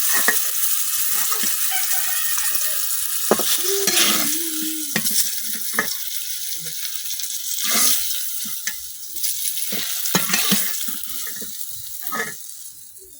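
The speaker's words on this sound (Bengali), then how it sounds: "মাছগুলো কিন্তু আমি উল্টায় পাল্টায় ভাজি করে নিচ্ছি" Karfu fish frying in hot oil in a pan, turned over now and then: a steady close sizzle broken by brief scraping and clattering of a spatula, with a short tonal squeal near the middle.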